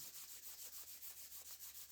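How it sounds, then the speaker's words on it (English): Hands rubbed briskly together, a steady back-and-forth swishing friction in an even rhythm of roughly eight strokes per second, close and soft with no talking. "rub your hands briskly together"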